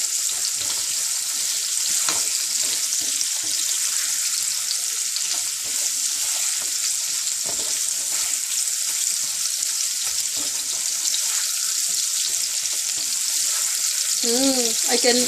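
Radish and eggplant sabzi cooks in a covered pan in a Punjabi-style recipe, giving a steady soft sizzle and frying hiss throughout, with a brief clink near the end.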